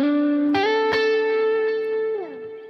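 Electric guitar run through a combined reverb and delay, a sustained note with bright harmonics that bends and shifts pitch, a few picked attacks, and a long washy tail, played alone with no talking.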